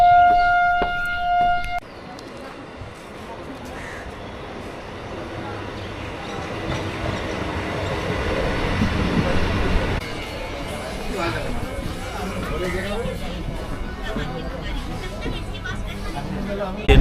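Passengers board a train at Kalyani station amid a steady rumble of rail traffic and crowd chatter. A brief tonal horn-like sound opens the scene, and nearby people talk throughout.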